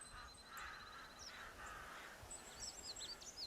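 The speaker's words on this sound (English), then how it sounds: "I hear birds." Birds call in a hunting game set in the wilderness of theHunter Classic, with several short harsh caws and chirps scattered through steady ambient noise, mostly in the second half and moderately distant.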